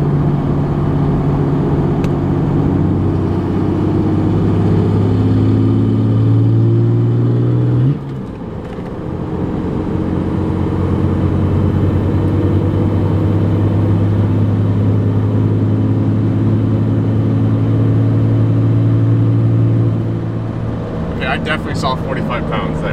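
A truck moves onto the freeway with a loud, steady engine drone and road roar, briefly dipping as it shifts before building again.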